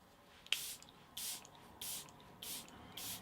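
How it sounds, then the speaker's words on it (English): A makeup setting spray hisses out in four short, evenly spaced bursts close to the mic, preceded by a small click of the nozzle, in an otherwise quiet room. "We need to set the makeup with the setting spray."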